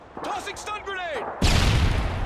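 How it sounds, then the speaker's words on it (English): A stun grenade detonates in a first-person shooter with a sudden loud, hissing burst that lingers. A shouted voice comes just before the blast. "Stun grenade!"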